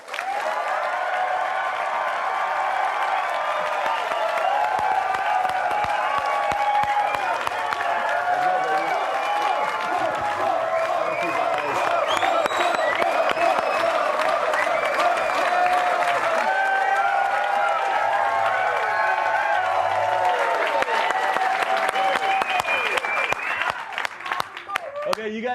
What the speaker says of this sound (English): now we have time for applause